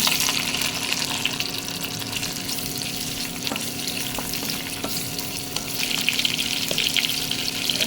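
Tempering for brinjal curry: mustard seeds, cumin, chana and urad dal, curry leaves, onion and green chili frying in oil, a continuous crackling sizzle with occasional utensil taps and stirring, no talking.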